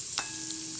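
Chopped almonds, cashews and raisins fry in a pan for talaniche modak as they are stirred, giving a brief, close sizzle with a small scrape near the start and no speech.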